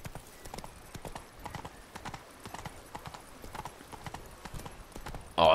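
Rhythmic hoofbeats of a galloping horse in the video game The Witcher 3: Blood and Wine, quick and regular at a moderate distance, ending in a sudden loud burst of noise.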